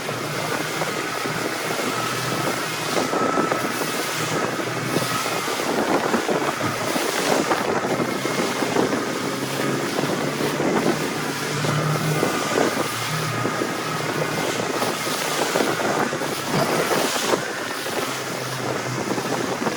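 A 2016 Shallow Sport X3 boat with a Yamaha 250 SHO outboard runs out past jetties in rough waves, a steady loud engine roar mixed with wind buffeting and water slapping, with no talking.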